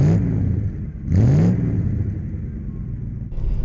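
A Ford Focus Mk1 engine revs while driving, loud and close, with two rising surges of revving over a steady low rumble.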